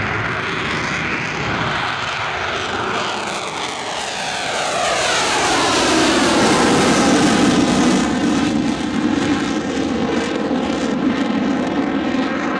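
An aircraft makes a very short takeoff at the Farnborough Airshow, its loud engine roar building and rising in pitch as it powers away, with a sweeping, phasing drone that carries steadily through the whole stretch.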